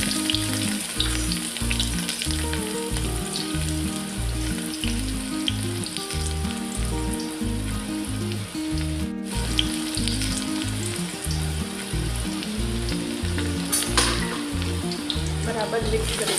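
Ajwain seeds and onions frying in a pan for a Kathiyawadi guvar shaak give a loud, continuous sizzle and crackle over a steady rhythmic background beat.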